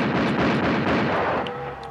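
A cartoon hunter's gunshot erupts in an Italian-dubbed animated short, a loud, booming burst that rolls on for nearly two seconds before fading.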